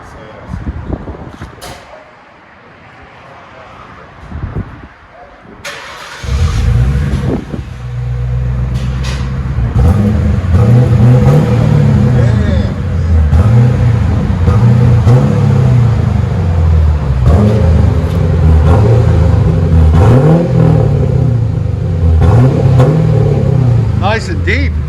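A 1994 Ford Thunderbird V8 with Flowmaster Flow FX dual exhaust starts up and revs repeatedly with a deep, low, rumbling exhaust note, loud and close, with brief voices early on.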